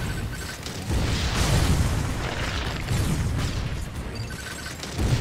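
Shot and explosion in the video game Metroid: Other M, heard as a loud, sustained rumbling blast with heavy low booms that swell and stay dense for several seconds.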